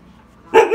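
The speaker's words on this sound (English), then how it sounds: "That's your bark." A dog on a walk gives one sharp close bark that breaks a near-silent moment, followed by a short yelping tail.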